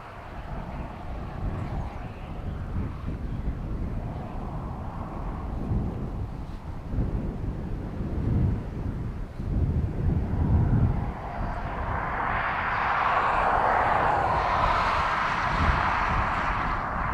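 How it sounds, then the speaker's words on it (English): Aircraft reverse thrust at Dublin Airport rolls in from the far side on the wind as a low, rumbling roar that builds and grows harsher toward the end, with buffeting wind noise throughout. "big reverse noise from north side"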